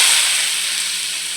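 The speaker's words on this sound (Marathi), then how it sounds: "आता मी कांदा घालणार." Onions dropped into hot oil for pav bhaji give a steady, bright sizzle that fades slightly over a moment, close and alone with no talking.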